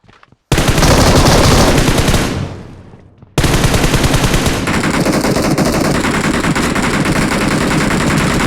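Heavy machine gun fire in a video game: long dense bursts of rapid shots, loud and close, with one burst fading out before another sustained volley runs to the end.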